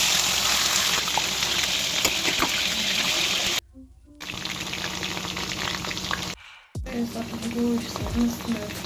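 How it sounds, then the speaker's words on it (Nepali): Chicken frying in a pan with a steady broadband sizzle and crackle, close and loud, cut by two short dropouts, with a little background voice and a brief low clunk near the end. "अब चाहिँ चिकन फ्राई गर्छु है साथीहरू"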